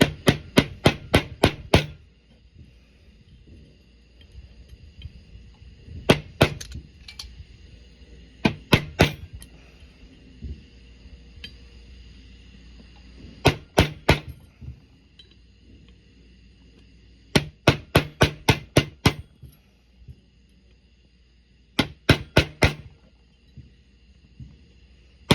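Sharp metallic taps from a hammer driving a pin out of a Sig P224 compact pistol during disassembly, coming in tight bursts of about four to six quick strikes with pauses between, close and loud.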